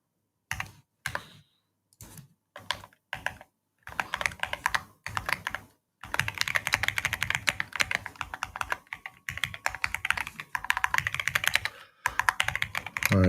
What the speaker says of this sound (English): I'm typing as quickly as I can go.